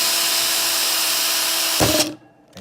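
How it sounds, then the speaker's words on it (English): A power drill bores a hole through the center of a plastic bottle cap while bleeding the brakes on a 2017 Mitsubishi Mirage G4, a loud steady whine running nearly two seconds before cutting off abruptly. "we'll want to drill a hole here in the center of the cap"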